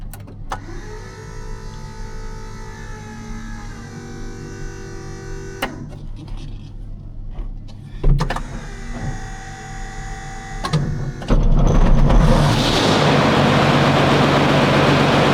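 A Pion light aircraft engine, one with a fault that sends black oil pouring out, cranks and starts after ignition on: a steady hum and clicks first, then a sudden loud, dense roar from about eleven seconds that holds close and continuous.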